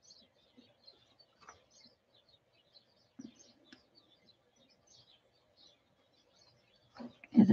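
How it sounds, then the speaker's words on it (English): A bird in a garden twitters with faint, scattered chirps and tweets against near silence, picking up in a slightly louder flurry at the end. "The bird is having a good old twitter."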